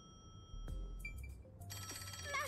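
Electronic telephone ring from the video game Rain Code, a short repeating trill that starts partway through over a steady low background bed, with blips of game effects before it.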